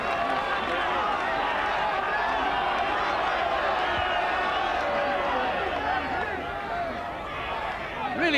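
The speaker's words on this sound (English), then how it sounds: "listen to the crowd" A large rugby crowd at a 1983 Newbridge versus Japan match in the Valley, a steady dense roar of cheering and voices that holds throughout and dips slightly near the end.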